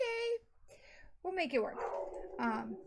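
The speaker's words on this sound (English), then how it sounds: "Sorry about the dog." A dog barks and whines in short bursts close by while someone talks over it.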